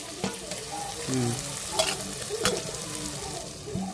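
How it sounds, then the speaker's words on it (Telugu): Chicken curry with ginger-garlic paste and tomato fries in a pan on a home rooftop at night, sizzling steadily while a utensil stirs and scrapes in short, irregular strokes close by, with no talking. "చికెన్ కర్రీలోకి ఇట్లా మొత్తం బాగా వేగుతూ ఉంది"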